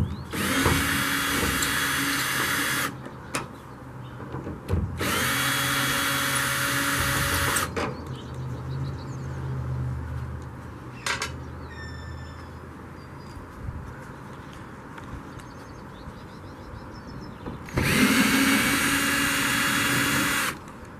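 A power tool loosening a long bolt on a salvaged Jeep whirs in three loud bursts, separated by quieter stretches of faint clinks and handling noise.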